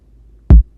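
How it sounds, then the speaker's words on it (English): A single vintage-style tape kick drum sample for a dark, textured beat: one short, punchy low thump with a quick decay, alone and dry. "I add this tape kick"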